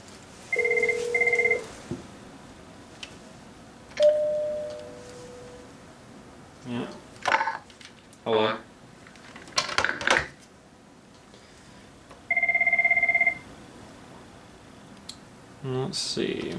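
A Cisco 7975G IP phone rings in two electronic bursts during a test call, with handset clicks, button presses and brief speech between the rings.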